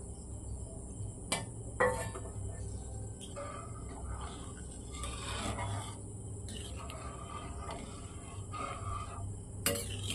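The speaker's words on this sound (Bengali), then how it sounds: "জল অ্যাড করে সেটা ভালোভাবে মিশিয়ে দিলাম, পুরো কড়াইতে ভালো করে মিশিয়ে দিলাম।" Ghugni stirred with added water in a kadai, a steady scraping and rubbing of a spoon against the metal pan with occasional clinks over a constant background hum.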